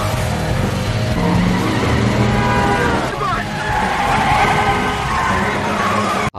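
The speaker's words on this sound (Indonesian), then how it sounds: "Harken ngejar mereka bertiga dan ditabrak-tabrakin deh tuh mobilnya." Film car chase with vehicles ramming each other: loud, sustained tire squeals and skidding over roaring engines, with a brief crunching impact midway and a sudden cut at the end.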